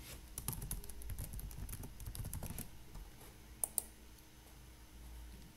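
Fast, light typing on a computer keyboard while writing a Docker file: a soft, steady patter of clicks for a few seconds, then a pause and two sharper isolated key taps, faint and close with no voices.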